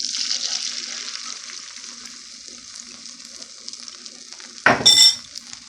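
An egg dropped into a warm skillet for a diabetic-friendly veggie and meat omelette roll, a close bright hiss of sizzling fat, then a short louder crackling burst with a faint metallic clink near the end.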